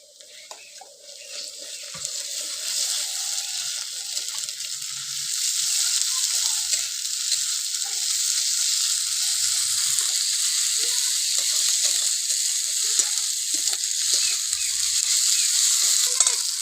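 Ginger-garlic paste frying in a pan for a soybean chunk curry: a steady hissing sizzle builds after a quieter opening and holds loud and close, broken by occasional soft scrapes of stirring.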